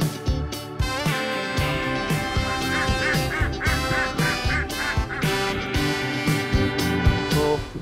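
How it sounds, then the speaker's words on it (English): Ducks quack in a noisy, busy outdoor scene at a lake in Sattal, India, their calls rising over a dense wash of background sound that continues throughout. "One more thing, there are ducks"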